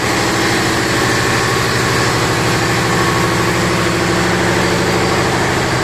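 A ship's diesel generator engine runs loud and steady in the engine room, a constant heavy droning rumble with fine rhythmic pulsing and no pauses.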